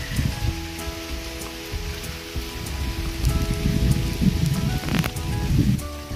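Rain falls steadily on the trees at a forest resort in dense nature, a close patter of drops on surfaces that thickens in the second half, heard alone.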